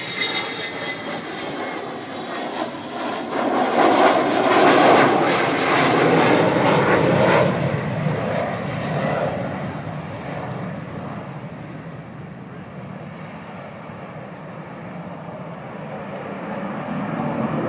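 Avro Vulcan XH558 bomber passing over the Dunsfold Wings & Wheels air show, a loud roaring jet rumble that swells to a peak, then slowly fades into a distant drone.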